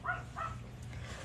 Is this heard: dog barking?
yes